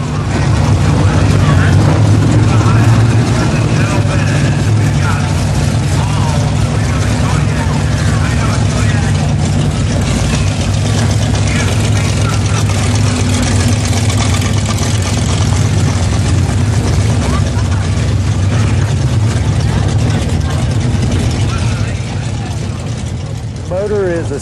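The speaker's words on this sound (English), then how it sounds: "Motor is a 67 440 Magnum, rated at about 550 horsepower, has Predator carburetors, a NOS nitrous charge system" Monster truck with a 1967 440 Magnum V8, about 550 horsepower, Predator carburetors and NOS nitrous, idles with a steady, heavy low rumble throughout, a continuous loud drone with faint mechanical clatter.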